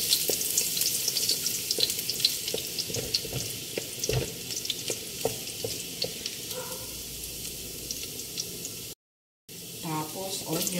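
Garlic fries in hot oil in a kawali, making a steady sizzle with scattered clinks and stirring taps, while a voice talks briefly near the end.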